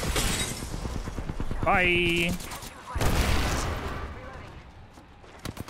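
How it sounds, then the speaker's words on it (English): A grenade thrown and exploding during an Apex Legends solo match: gunfire and weapon bursts crackle amid a short tonal game cue, then a heavy blast hits, with a player talking over the action. "Throwing grenade."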